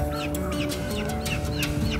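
Turkeys on a large Taiwanese turkey farm cluck and call over one another, a dense flock of repeated bird cries over a constant hum of farm background.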